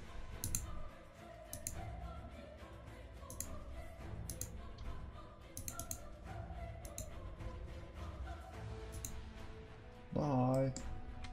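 Scattered computer mouse clicks during PC game play, crisp and near, over steady game background sound, with a short louder tonal game effect near the end.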